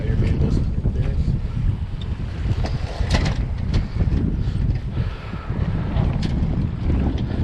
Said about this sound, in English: Oh, here comes a big gust.